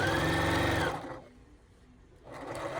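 A sewing machine runs around the edge of a quilted Christmas stocking, humming loud and fast, dropping to near silence for a moment, then starting up again.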